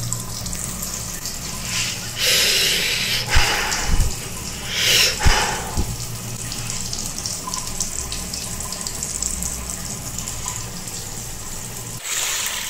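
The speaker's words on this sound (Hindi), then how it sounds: "गर्मा गर्म पानी" Hot water runs steadily from an instant geyser tap, a continuous close splashing stream that holds for the whole stretch, with a few louder gushes and knocks early on.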